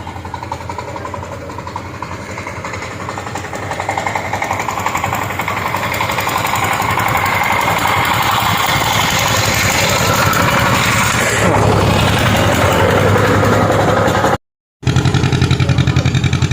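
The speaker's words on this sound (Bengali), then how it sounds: "জেলেরা যন্ত্রচালিত নৌকায় করে মাছ নদীতে ইলিশ ধরার জন্য চলেছে আপন গতি" A motorized fishing boat heading out for hilsa on the Rupnarayan river runs its engine in a steady, loud, rapid chugging drone that continues with only a brief dropout near the end.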